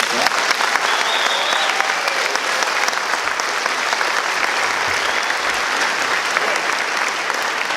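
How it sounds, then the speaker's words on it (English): Loud, sustained applause fills a high school auditorium at a district band concert, praising the student musicians with a dense, unbroken wash of clapping from a large audience. "a round of applause"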